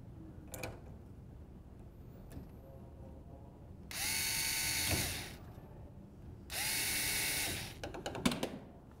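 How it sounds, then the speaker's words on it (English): Screws being driven back into a door: two sustained, steady whirring bursts a few seconds apart, with creaks and clicking handling noises in between. "using a flathead screwdriver, simply screw them back into place"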